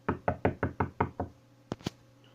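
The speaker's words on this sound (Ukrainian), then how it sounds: "хто це там стукає?" Six steady knocks on a door, moderately close, followed after a pause by two sharper, louder raps, with a faint low hum beneath and no talking.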